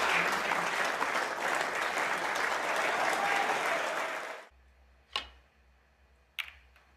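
A snooker crowd at a World Grand Prix match applauds loudly for about four seconds, dense clapping that then stops abruptly, leaving near silence broken by two sharp clicks of balls.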